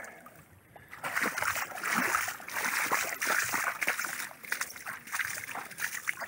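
Water rushes steadily through a newly dug diversion canal, a continuous close-up gurgling and sloshing flow with no voices over it.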